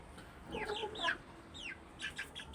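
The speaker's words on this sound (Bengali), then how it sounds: "আমাদের মুরগি দাঁড়িয়ে" Chickens in a cage give a few soft, scattered clucks and short squawks at close range against quiet background hiss.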